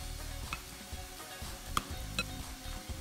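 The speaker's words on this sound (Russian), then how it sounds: "Перемешиваю это яично-сырную смесь" Quiet scraping and light clinks of a utensil stirring an egg and cheese mixture in a bowl, with a few sharper taps against the side.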